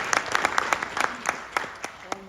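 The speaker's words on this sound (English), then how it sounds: "It's okay to clap." Scattered audience applause at a talk on transforming education for Black children, a handful of distinct claps spaced irregularly across a quiet room, moderately near and sparse rather than a full ovation.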